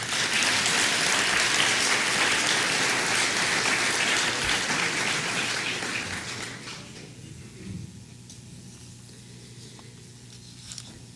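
Sustained applause from an audience at a closing ceremony, a broad steady wash of clapping that fades out after about six seconds into near quiet.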